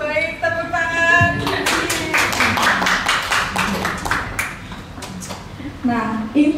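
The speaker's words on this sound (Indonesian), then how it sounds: "Baik, tepuk tangan." A group claps hands at a school teacher-training session, sharp scattered claps over several seconds, close and fairly loud, mixed with voices talking and calling out.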